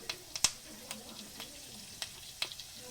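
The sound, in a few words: chopped ginger and curry leaves sizzling in hot oil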